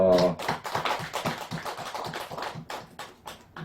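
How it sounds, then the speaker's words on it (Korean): Rhythmic clapping from an audience at a Buddhist temple dharma service in Buyeo, South Korea, steady repeated claps following a sung folk song, close and moderately loud with a voice briefly audible at the start. "박수 한번 칩시다."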